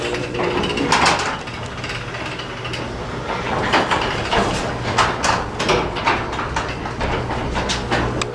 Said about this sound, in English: let me close the garage